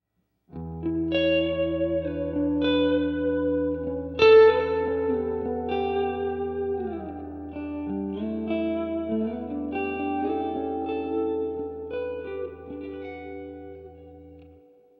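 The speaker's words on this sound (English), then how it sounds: "One of the key features I want to come back to is the tube-driven reverb in this amplifier" Electric guitar chords and single notes through a MESA/Boogie Roadster amplifier's tube-driven reverb ring out with a thick, spacious reverb tail, each strum washing into a long, shimmering decay.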